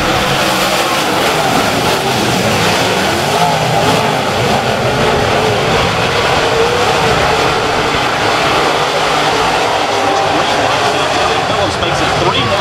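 USMTS modified race cars accelerate on a restart off turn four at Humboldt Speedway, a loud, dense roar of many engines that stays steady throughout, with a voice talking over it.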